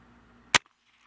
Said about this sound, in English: Now let me grab the garden gun, the exact same ammo,